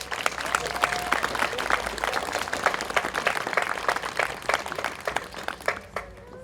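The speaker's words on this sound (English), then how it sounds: "Please show applause for these wonderful two new citizens of Australia." Applause from the audience at an Australia Day citizenship ceremony in Lithgow for two new citizens of Australia: dense, steady clapping from many hands in a large crowd, sustained throughout and easing slightly at the end.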